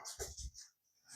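Dogs in a home, a few short, close barks and yips in quick succession, then a brief whimper after a pause.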